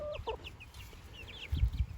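Several short chicken clucks and chirps sound close by, followed by a few soft scratching thumps near the end.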